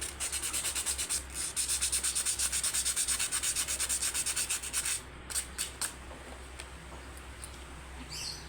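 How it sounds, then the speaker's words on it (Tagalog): Sandpaper scrubs the bottom of a rice cooker part in quick, even back-and-forth strokes for about five seconds, then a few slower, scattered rubs follow, close and loud. "tapos lihain natin yung ilalim"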